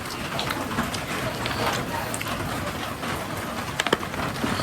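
Steady rain falling as a dense, even hiss of drops on surfaces, moderately loud and unbroken, with a few sharper drips or taps near the end.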